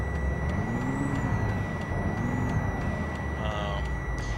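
In American Truck Simulator, an International 9800 truck's steady, high-pitched reversing beep repeats at an even pace over a droning engine rumble and a hiss of air, all synthetic and constant.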